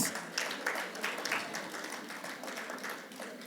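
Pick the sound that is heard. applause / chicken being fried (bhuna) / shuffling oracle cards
applause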